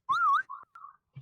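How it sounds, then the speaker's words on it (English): A person whistles a short wavering tune, one rising-and-falling note followed by two flat, clipped notes, close and clear against silence. "The whistle is crazy."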